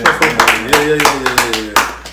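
Quick, uneven bursts of hand clapping from a small group during an interview show, loud and close, mixed with people talking and laughing over it.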